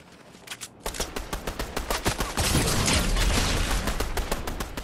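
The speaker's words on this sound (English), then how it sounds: "I'm getting shot from the other way now" Rapid bursts of video game gunfire on an icy mountain, loud and close, with automatic fire crackling in dense volleys that build into a sustained barrage.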